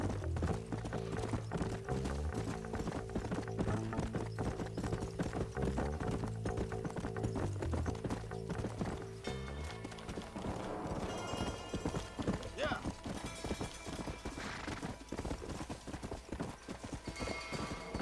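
Horse hooves clip-clopping in the Red Dead Redemption video game, with occasional whinnying, running steadily beneath loud game music and a talking voice.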